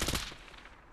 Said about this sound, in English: I'm hit! Exchanging fire!